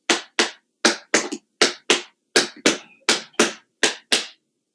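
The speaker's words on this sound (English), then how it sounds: "we go right back to the shuffle flap, but only on that right side" Tap dance shuffle flap steps on the right foot, crisp, loud metallic taps in quick pairs and singles with a steady, repeating rhythm, close up with no talking.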